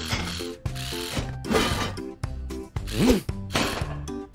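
A cartoon wrench ratchets a hubcap tight on a toy tow truck, rhythmic loud ratcheting clicks repeating in bursts with cartoon springy boings and zips layered over a bouncy musical beat.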